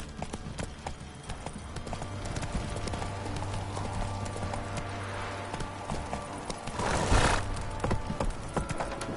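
In The Witcher 3 the horse Roach gallops along, with steady rhythmic hoofbeats clip-clopping under ambient game sound and a brief rush of noise near the end.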